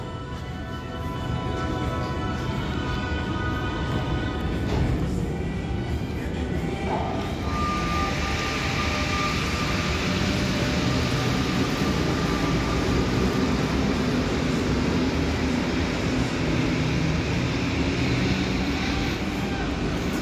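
A Lyon metro line D train starts up and pulls away with a loud, steady rumble close by, as a thin electric whine rises partway through and holds over the running noise.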